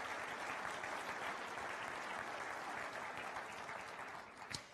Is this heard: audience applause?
yes